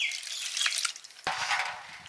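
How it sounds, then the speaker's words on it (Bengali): Tap water running over peeled shrimp in a kitchen sink, a steady hiss that briefly breaks and resumes with a splashier, fuller flow. "চিংড়ি মাছ ছাড়ানো হয়ে গেছে, ধুয়ে নিচ্ছি।"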